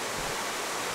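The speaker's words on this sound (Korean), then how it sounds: "물소리 들리시나요?" A mountain stream at Odaesan in Gangwon, South Korea flows with a steady, close hiss of rushing water. It is brief and continuous, with no voices.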